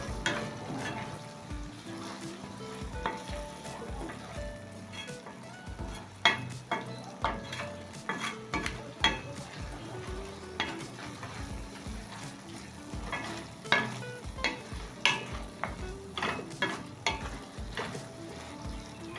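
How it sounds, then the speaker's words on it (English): Spring onions get stirred into a sizzling sauce in a pan, with steady close frying crackle and repeated clinks and scrapes of a spoon against the pan. No voices are heard. "So just stir the spring onions into the sauce"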